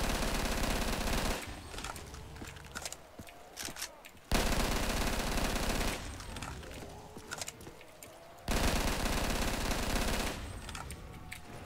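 Rapid bursts of automatic gunfire from a video game zombies custom map, Mob of the Dead bridge challenge, come in long sustained volleys separated by brief pauses, loud and close.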